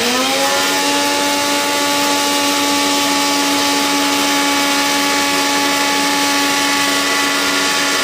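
An electric grinder powders spices for pepper chicken, a loud, steady high whine with strong tonal hum running unbroken from start to end, no talk over it.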